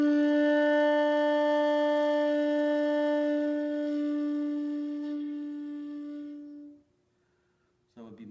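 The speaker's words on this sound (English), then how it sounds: "if you blow properly in your Kari-Buki position, it would sound like this" A shakuhachi bamboo flute sounds one long, steady, full note played in the kari-buki position, close and clear with strong overtones. The note fades out after about seven seconds, then a short noise follows.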